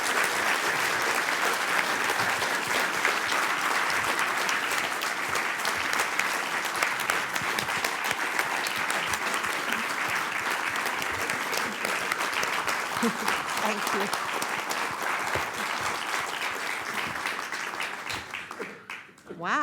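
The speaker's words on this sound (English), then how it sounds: "Wow, that was quite an applause." Long, steady audience applause fills a lecture hall after a disability lecture on inclusive design, loud and sustained throughout before tapering off at the end, where a speaker briefly talks.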